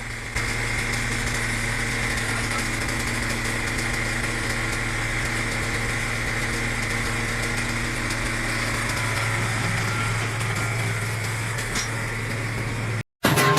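The engine of a Binderberger 40-ton log splitter runs at a timber yard with a constant, even droning hum that holds steady for the whole stretch and cuts out briefly near the end.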